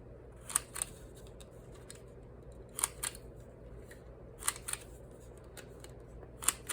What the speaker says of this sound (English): I'm going to pull out my corner rounder and round the corners.